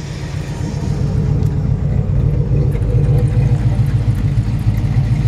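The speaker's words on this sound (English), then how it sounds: "It's really great sounding exhaust." Deep, steady exhaust rumble from a 1968 Chevelle idling nearby, a thick low burble that holds throughout without pauses.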